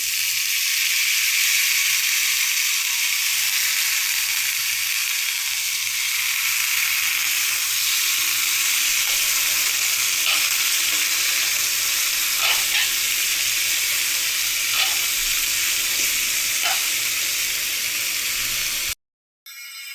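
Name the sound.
potatoes frying with onion and green chili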